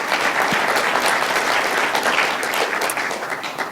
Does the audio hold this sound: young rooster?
no